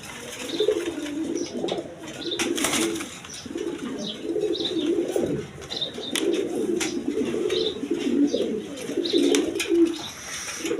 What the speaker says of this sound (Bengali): এক পেয়ার কবুতর ড্যান্সিং করতেছে